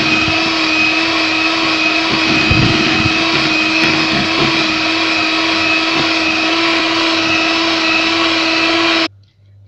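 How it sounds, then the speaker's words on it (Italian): Electric hand whisks beat gelato cream in a bowl, a steady, loud motorized whir running continuously and close before cutting off abruptly near the end. "E lavorate nuovamente il tutto con le fruste elettriche."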